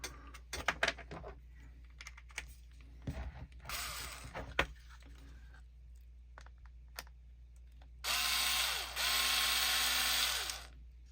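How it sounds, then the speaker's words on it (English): Small screws being backed out of the rear gear casing on an LDR/C radio-control model with metal gears: scattered clicks and taps, then two sustained whirring bursts like a small powered driver near the end, close and with no talk. "1, 2, 3, and 4 screws to get this rear gear casing off."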